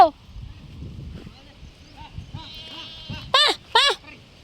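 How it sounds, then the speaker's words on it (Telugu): Sheep and goats bleat, with a few softer calls building to two loud, close bleats near the end over a low background rumble. "ఒరే గొర్రెలు కలిసిపోతాయా ఒరే మేకలు"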